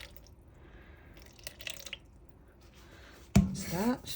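Water poured into a cup to mix eco-resin, with a few faint drips and splashes and then a short, louder pour near the end, as a person speaks quietly over it.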